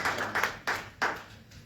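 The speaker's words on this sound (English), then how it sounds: "she deserves a round of applause for stepping in as quickly as she has." A round of applause at a Pocono Township commissioners meeting, a small group clapping in a few quick uneven bursts that fade out, close and moderately loud in a quiet room.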